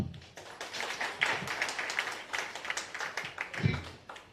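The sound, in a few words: audience clapping for a minute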